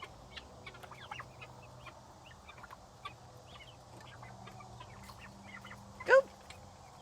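Guinea fowl give one loud, sharp call standing out near the end, with faint scattered bird chatter and low background noise throughout.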